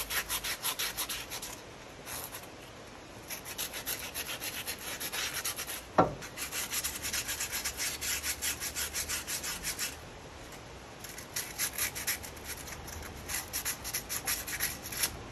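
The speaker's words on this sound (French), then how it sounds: "je viens y rajouter encore, c'est mon côté maniaque, un petit coup de ponçage" A front brake disc from a Ford Transit is sanded by hand in a garage, with rapid, rhythmic rubbing strokes that run close and steady, briefly pausing, plus one sharp knock midway.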